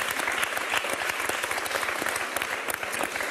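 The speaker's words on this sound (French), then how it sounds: "on entend le nom de Barack Obama, on applaudit" Dense, continuous applause from a French TV studio audience, close and even, with no pauses and no voices standing out.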